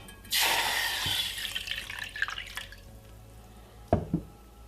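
About one cup of water is poured into a medium-sized pot in a home kitchen: a brief splashing gush at the start that fades away, followed by a few faint drips near the end.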